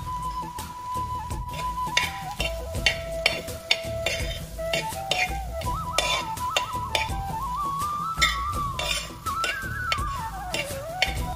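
Green gram and dal are stirred in ghee in a pan for payasam, the spoon scraping and tapping the metal in a steady, close rhythm for several seconds, with a faint wavering tone running underneath.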